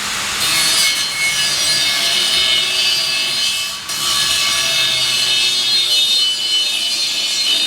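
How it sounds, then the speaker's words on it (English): A handsaw cuts a notch in wood for a blacksmith shop's leg vise, making loud, continuous rasping strokes up close with a brief pause partway through. "I'm going to cut a notch in line with this flap for the post on the post vise to sit against."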